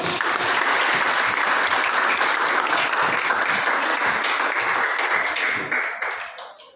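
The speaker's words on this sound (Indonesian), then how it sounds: "Ya, berikan tepuk tangan dulu bagi" Audience applause for a discussion group at a teaching practice session, dense sustained clapping from a crowd that fades out toward the end.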